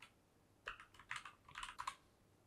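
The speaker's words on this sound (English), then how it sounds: "So I'm just gonna enter my password" Short bursts of typing on a computer keyboard as a password is entered, a few quick clustered keystrokes, faint and close, over near silence.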